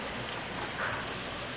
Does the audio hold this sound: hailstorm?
yes